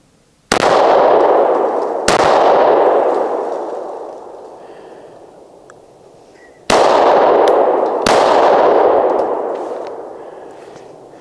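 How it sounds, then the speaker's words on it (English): Four loud, sharp shots from an M&P Shield 9mm pistol at an outdoor range, irregularly spaced with long echoing decays ringing out after each report, no voices. "then I'm going to shoot, try to make the range hot, and then we'll get to shooting"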